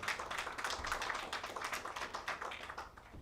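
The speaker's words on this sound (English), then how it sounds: "A round of applause for him as he comes in." Audience applause greets a panelist walking up at a 2025 cybersecurity roundtable, a steady patter of many hands clapping at moderate distance for about three seconds, with no talking over it.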